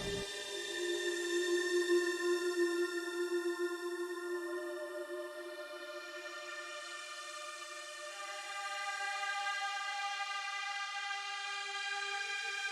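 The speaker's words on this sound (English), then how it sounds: "I also added a sort of pad sound that's in this subpatch." A Pure Data synth pad heard only as reverb, with no dry signal, swells in as a soft, sustained, washy chord that holds steadily and shifts once midway, alone and fairly quiet.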